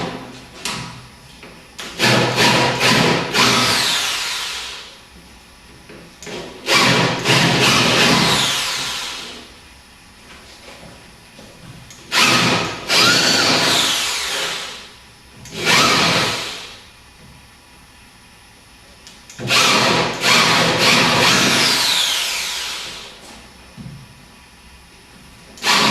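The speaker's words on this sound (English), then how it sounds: "carry on and drill the whole 10 of the holes" A power drill boring a set of ten screw holes, in repeated bursts of several seconds each with brief pauses between, loud and close with no talking.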